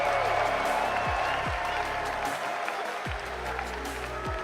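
A crowd at the Rocket League World Championship cheers and applauds Furia after a playoff series win. A dense, steady roar of clapping fills the arena, and an announcer talks over it.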